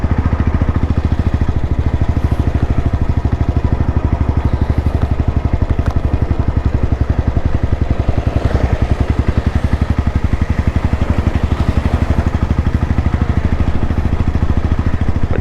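A torque-tuned Royal Enfield Bullet BS6 ES with an aftermarket silencer idles loud and close, its exhaust beating in a fast, even, unbroken thump, with no one talking.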